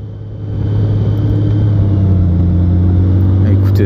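A 2021 Honda Goldwing 1800 DCT motorcycle's flat-six engine idles, swelling into a loud, smooth, steady low hum and purr held close by.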